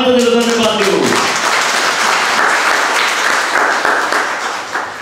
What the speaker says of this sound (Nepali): त्यस्तो परमेश्वर हामी एकचोटि ताली बजेर धन्यवाद दिउँ